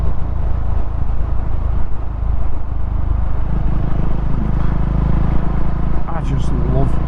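A KTM Duke 390 motorcycle with a new baffle-less exhaust drones steadily during a dusk ride, its low engine rumble constant beneath wind noise and someone talking throughout.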